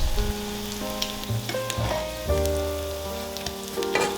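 Crab cakes sizzle in sunflower oil in a pan over medium heat, a steady close crackle and spit under a soft background hum, with small popping bursts throughout.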